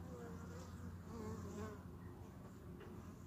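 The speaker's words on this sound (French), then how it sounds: "Ça les a excités un peu les abeilles là." Honeybees buzzing around a hive on a sunny day, a steady close drone of many wings with individual bees passing near, no talking.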